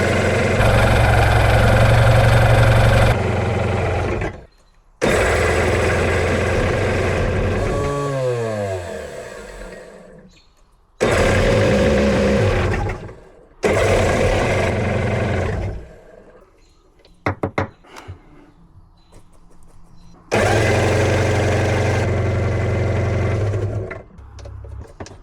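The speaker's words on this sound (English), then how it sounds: "This old motor I rebuilt, painted it all up nice and purty." A rebuilt 1996 Sea-Doo XP800 jetski two-stroke engine, which had sat for 15 years, starts and runs in several loud, close bursts of buzzing revving, cutting out between runs with a sputtering start and an idle in the gaps.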